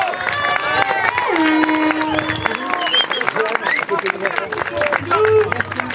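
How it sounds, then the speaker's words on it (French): A crowd at a 2016 end-of-season motorsport podium ceremony claps and cheers steadily and loudly throughout, with a loudspeaker voice and chatter mixed in. "On les applaudit."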